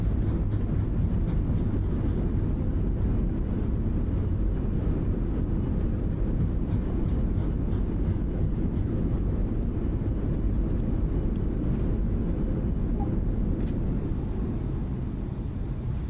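An airliner lands in Microsoft Flight Simulator with reverse thrust, a steady, loud roaring rumble of engines and wind that holds for about sixteen seconds and eases slightly near the end, with no talking.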